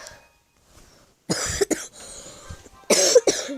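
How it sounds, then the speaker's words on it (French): A person coughs in two bursts of several hacking coughs each, close and loud, with quiet pauses in between. "Désolé si pendant la vidéo j'ai un peu beaucoup toussé"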